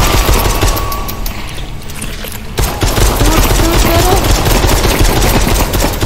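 Rapid gunfire in the VR zombie shooter Propagation VR, bursts of dense cracking shots that pause briefly, then resume and keep rattling loudly to the end.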